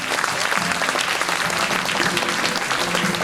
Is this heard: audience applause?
yes